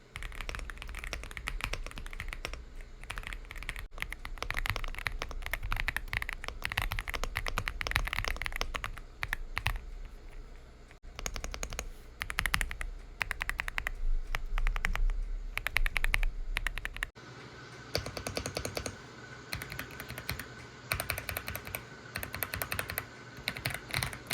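Rapid, clicky mechanical keyboard typing up close, a dense stream of sharp keystrokes with brief pauses, shifting to a softer, duller clatter near the end.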